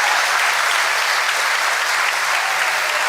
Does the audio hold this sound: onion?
no